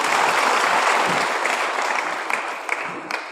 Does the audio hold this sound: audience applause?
yes